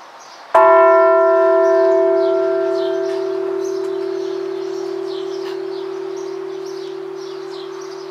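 The large bell of San Brizio parish near Spoleto is struck once, a loud, full strike followed by a long, slowly fading hum, alone with faint birdsong in the background.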